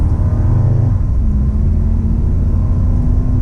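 A 2000 Toyota Land Cruiser engine pulls hard after a downshift, giving a close, deep, steady rumble whose drone rises slightly as it gains speed.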